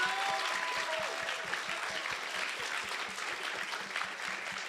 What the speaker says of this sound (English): she also deserves a round of applause for doing a wonderful job